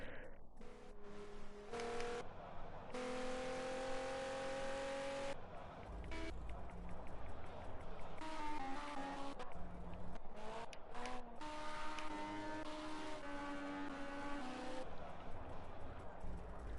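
Race car engines in a Le Mans racing video game whine continuously at high pitch, with tones rising and falling through gear changes as several cars run to the finish line.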